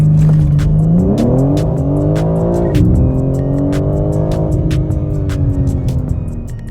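2022 BMW M4 Competition accelerating hard from a launch-control start, a loud close engine roar climbing in pitch with a sharp gear change partway, steady and strong before easing slightly at the end.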